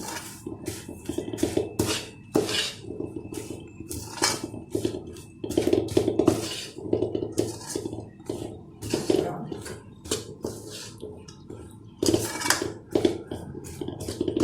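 Puffed rice being stirred into hot jaggery syrup in a pan, giving close, irregular scraping and rustling clatter with repeated sharp crunchy bursts, continuing without pause and with no voices.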